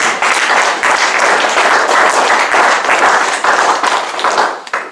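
A church congregation at a sermon applauds to acclaim the Lord, a dense, steady wash of many hands clapping close and loud, fading at the end.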